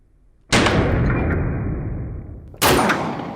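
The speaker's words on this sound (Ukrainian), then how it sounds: "я не знаю, як ти так влучно стріляєш по цим гонгам" Two sharp pistol shots about two seconds apart, each striking a steel gong target and followed by a long ringing metallic tone, close and loud, with no talking.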